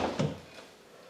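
A Ford Mustang door swings shut with a single soft, muffled thud at close range, followed by a short fading rattle and then quiet.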